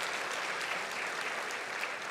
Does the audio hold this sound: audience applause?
yes